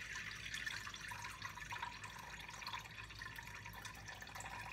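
Water being poured into a large glass bowl while measuring 650 grams for einkorn sourdough bread, a steady close trickle and splash that runs evenly without pause.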